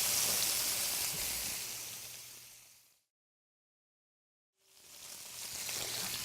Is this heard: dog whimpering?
no